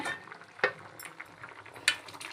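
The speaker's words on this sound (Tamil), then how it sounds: "தேங்காய் போட்டு ஒரு கொதி வந்தோடனே உளுந்து ஊற்றிடணும். கொதி வந்துடுச்சு." A coconut mixture coming to a boil in a pot, with a soft bubbling simmer broken by two sharp clinks of a utensil against the pot.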